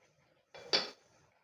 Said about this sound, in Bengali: ঢাকাটা খুলছি এবারে।